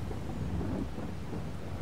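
Rain falls in the farming game Farming Simulator 22, a steady, dense downpour hiss with a low rumbling underneath and no pauses.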